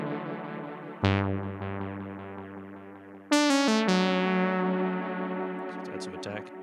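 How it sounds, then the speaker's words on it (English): Big, washy multi-head tape echo in the style of a vintage Space Echo, set with high feedback. Sustained guitar notes bloom into a pad with trailing repeats, and a louder second chord rings out and slowly decays. "I immediately think of pads and things getting big and washy with multi-head sounds like this."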